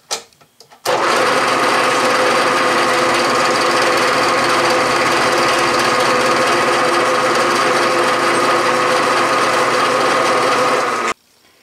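A South Bend metal shaper runs continuously through a cut on a workpiece, a loud, close, steady grinding clatter lasting about ten seconds before it stops abruptly.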